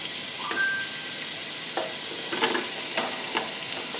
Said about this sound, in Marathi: आता आपण ह्या सगळ्या भाज्या घालून घेऊ